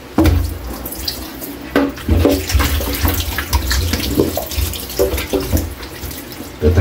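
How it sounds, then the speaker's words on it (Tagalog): Chicken being washed under a running kitchen tap, water splashing and gushing into a sink with uneven surges and spatters, close and loud with no talking. "Hugasan muna natin yung buttered chicken natin."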